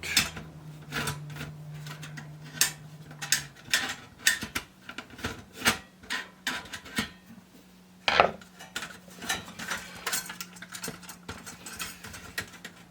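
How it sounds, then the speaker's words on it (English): Screws being removed from a Sega Genesis console, with a string of small close metallic clicks and ratcheting ticks in irregular bursts against a low steady hum, no talking. "Get all the screws out of it."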